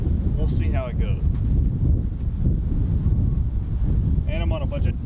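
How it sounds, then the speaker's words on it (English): Strong, gusty wind roars steadily across a golf course and buffets the microphone in a constant low rumble, with a voice talking over it. "the wind's blowing insane right now"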